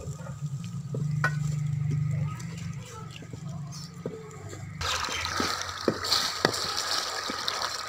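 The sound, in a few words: beef being fried and stirred in a pot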